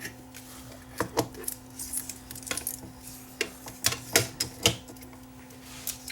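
Tape being threaded by hand on a Sony TC800B reel-to-reel recorder: faint scattered clicks, taps and plastic rattles near the deck, with a steady low mains hum beneath.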